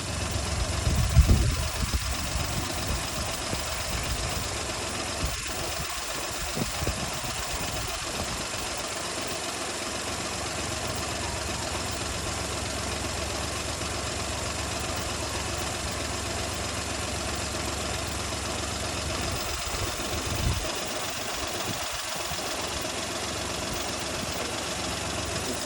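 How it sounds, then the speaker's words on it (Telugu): A Suzuki Maruti 800 car engine with 65k driven idles after carbon cleaner is injected into the air inlet, a steady, even mechanical hum with a couple of brief bumps, running alone without talk. "ఇంజన్ నాయిస్ అబ్జర్వ్ చేయండి మీరు."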